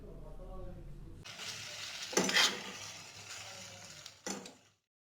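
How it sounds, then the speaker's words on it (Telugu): Veg noodles stirred in a pan with a spoonful of soy sauce, restaurant style: a steady hiss and scrape of tossing with two louder clattering bursts of utensil on pan, no voices. "ఒక స్పూన్ సోయా సాస్ వేసుకొని అంతటికి కలిసే విధంగా మంచిగా మిక్సీ చేసుకోవాలి"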